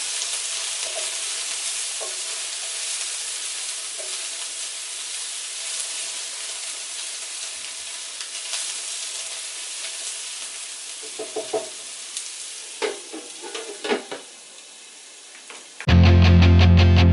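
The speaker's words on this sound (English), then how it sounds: "We're just kind of cooking up the carrots and the onions right now." Carrots and onions sauté in a hot pan with a steady, close sizzle and hiss. Spatula scrapes and stirs come through near the end, just before a sudden loud burst.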